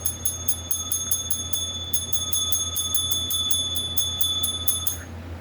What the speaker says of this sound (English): Sorry, wrong bell.